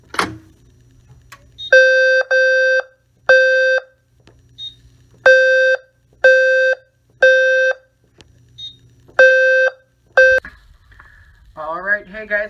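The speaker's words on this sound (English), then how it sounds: "that is my system sensor low frequency sounder" A System Sensor low-frequency fire alarm sounder on a test wall gives a series of loud, harsh buzzing tones in a regular on-off rhythm, close by, with brief voices at the end.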